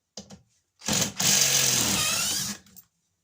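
Cordless impact driver backing out a screw, one burst of about two seconds of buzzing, rattling whir up close, with brief tool clicks before and after.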